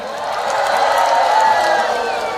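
Festival crowd at the closing night of Pekan Raya Kendal 2024 cheering and whooping back at the MC, a sustained wash of voices lasting a couple of seconds at moderate distance.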